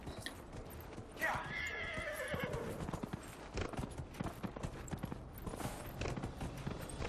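A horse whinnies loudly in the Dragon Age Inquisition video game, and steady clip-clopping hooves run underneath and continue after it, with a faint voice in the background.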